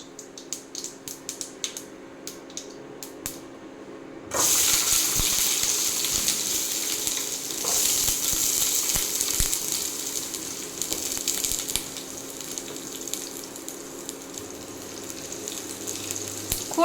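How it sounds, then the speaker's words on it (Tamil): Small onions drop into hot oil with popping mustard seeds, and after a few quiet crackles a loud, steady sizzle bursts up and keeps hissing with scattered spits and pops. "கடுகு நல்லா பொரிஞ்சிடுச்சு. இப்போ சின்ன வெங்காயம் சேர்த்துக்கலாம்."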